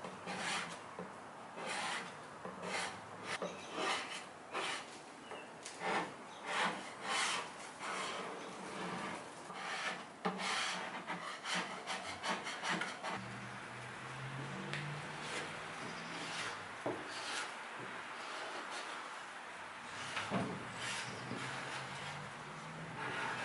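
Power sander working over wood furniture, a steady raspy rubbing that rises and falls in short passes, fairly quiet and close, with no talking.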